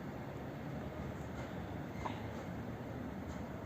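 A train hauled by two locomotives at Warszawa Gdańska station, a steady, moderately distant rumble with no clear rhythm throughout.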